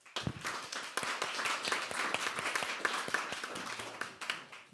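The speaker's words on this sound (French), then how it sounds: "Merci beaucoup, on peut l'applaudir." An audience at a Paris deeptech startup pitch session claps together in a dense, steady round of applause, close and lively for several seconds before thinning out at the end.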